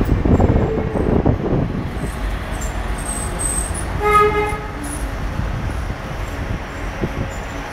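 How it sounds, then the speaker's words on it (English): A DLR train at Canary Wharf in London approaches and sounds a short horn toot midway, over steady rail rumble and outdoor ambience in snowy weather. "Approaching DLR train"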